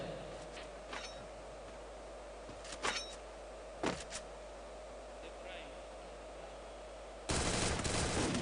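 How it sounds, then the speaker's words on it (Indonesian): Gunfire in the Free Fire video game tournament, a few sharp, distant shots spread across the clip under a commentator's voice, ending in a loud burst of rapid fire. "Dan di situ terjadi tembakan"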